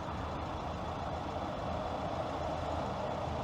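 Heavy trucks roll past on a nearby road in a steady, continuous broadband roar with no distinct pauses, loud and close throughout.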